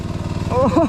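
A small engine runs at a steady idle, its low pulsing hum close by, while a voice speaks briefly over it near the end.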